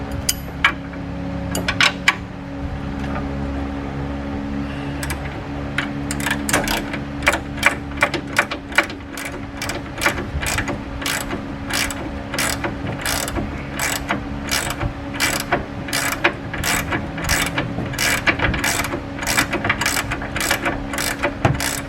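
A ratchet with a 21mm socket breaking loose a nut on a 1997-2002 Ford F-150 upper control arm, giving a long, loud run of rapid clicking pawl strokes in an uneven rhythm.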